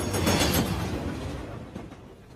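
A passenger train running on rails, a steady rumbling roar with faint rhythmic clatter that gradually fades over a couple of seconds.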